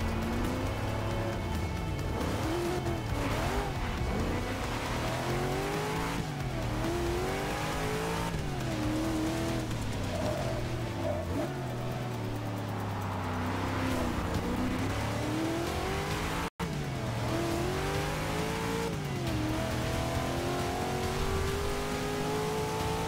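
Race car engine in a rainy Forza Motorsport 6 race at Le Mans Circuit de la Sarthe, a loud continuous engine drone rising and falling through gear changes and revs, with tire noise, steady throughout with a brief cut near the end.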